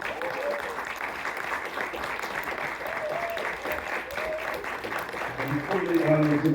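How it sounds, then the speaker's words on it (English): Applause from a graduation ceremony audience for a keynote speaker in Riviera Beach, steady dense clapping throughout with a voice speaking over it near the end. "if we can all give a round of applause for our keynote speaker"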